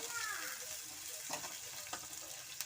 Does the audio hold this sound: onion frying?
yes